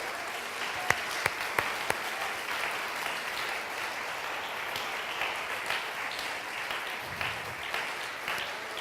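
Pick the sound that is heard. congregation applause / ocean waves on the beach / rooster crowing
congregation applause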